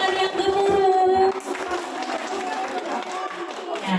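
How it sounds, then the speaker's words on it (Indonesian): Thunderous applause from an audience at a teachers' presentation session, a dense steady wash of clapping filling the room for several seconds with talk running through it. "Tepuk tangan yang gemuruh."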